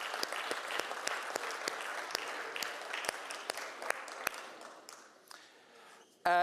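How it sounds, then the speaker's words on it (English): Applause for panelists at a conference session, a modest crowd clapping with distinct individual claps that thin out and fade, ending with a brief louder noise. "So another round of applause for these panelists."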